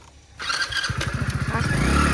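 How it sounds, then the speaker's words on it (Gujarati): A motorcycle engine is self-started at a village home: a brief whirring crank, then the engine catches into a fast, steady puttering idle, loud and close, with some background sounds under it. "એક સેલે બાઇક ચાલુ થઈ ગયું ગાઈસ"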